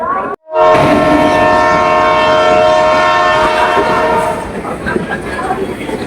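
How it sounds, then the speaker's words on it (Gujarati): A train pulls into Gondal railway station, sounding a loud, sustained horn for several seconds close by, then the horn cuts off, leaving rumbling carriages and clatter. "ફાઇનલી ટ્રેન આવી ગઈ છે"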